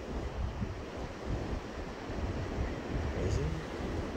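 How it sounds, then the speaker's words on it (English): Ocean surf at St. Augustine Beach Pier in Florida, a continuous low rushing wash of breaking waves mixed with wind buffeting the microphone, steady throughout. "That's the ocean."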